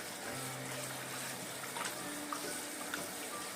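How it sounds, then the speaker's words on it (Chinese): Noodles being rinsed under a running kitchen tap, a steady, even wash of flowing water that holds at a moderate level through the whole stretch, with no talking. "先用流动的清水冲洗一下就可以了。"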